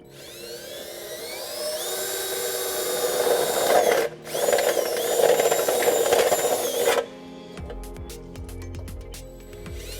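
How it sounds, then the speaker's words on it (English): A power drill with a 5/8 bit bores through a heat shield under a 2020 Subaru Forester, a steady loud whine rising in pitch for several seconds with a brief pause, then stopping into rattling clicks. "This is where we can drill using a 5/8 drill bit, and we can reinstall our heat shield."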